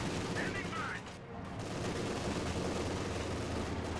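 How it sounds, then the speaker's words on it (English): MG42 machine gun in Company of Heroes 2 firing at a tank, a dense steady rattle of gunfire that runs throughout with battle noise, fairly loud and continuous. "the MG42 is just shooting at the tank, not actually doing anything"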